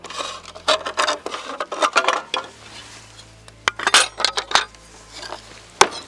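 A slate piece for an old-German-style medieval roof is cut in half at an angle with a guillotine cutter, giving a close run of sharp clacks and gritty crunching scrapes with brief pauses between strokes.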